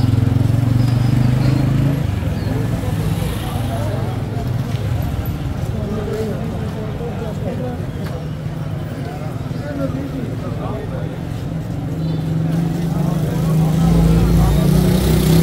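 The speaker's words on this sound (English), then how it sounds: "From all the bikes and cars driving around here" Loud, busy street traffic in Faisalabad, Pakistan, with motorcycle engines revving and cars passing close by, a constant roar that swells at the start and end.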